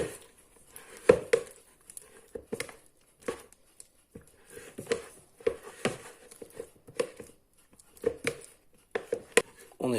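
A spoon stirs a flour pre-mix in a bowl, giving irregular clinks and scraping taps in short bursts, close and fairly quiet, alone without talk.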